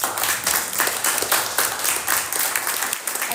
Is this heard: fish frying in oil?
no